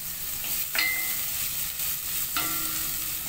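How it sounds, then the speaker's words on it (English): Garlic sauteing in a pot that is already hot, a steady broad sizzle and frying hiss with two brief clanks of stirring, close and alone with no talk. "let's saute our garlic"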